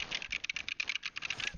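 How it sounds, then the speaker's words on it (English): A computer keyboard being smashed in frantic mashing: a quick, dense clatter of keys pressed in rapid irregular bursts, fairly faint and close, lasting just over a second. "Smash your head on the keyboard."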